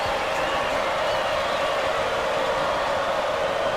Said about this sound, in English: This crowd is going insane.